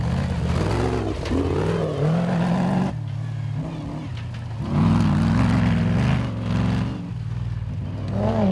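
An aging Jimco off-road race car in Class A roars past with a rising, revving engine, loud and close, easing off briefly before surging again in a muddy desert race setting.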